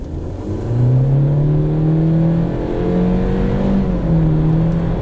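A 2022 Honda CR-V SUV accelerates nearby, its engine drone rising in pitch through a couple of gear changes, loud and steady with no talking.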